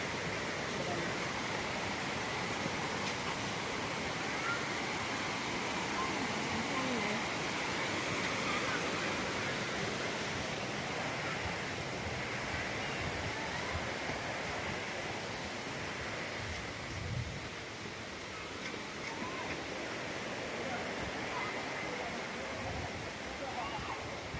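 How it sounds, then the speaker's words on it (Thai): Steady broadband rush of the Samrong Kiat waterfall in Thailand, a continuous even roar of falling water that fills the whole stretch with only slight swells. "บรรยากาศก็จะประมาณนี้นะครับ น้ำตกสำลงเกียรติ"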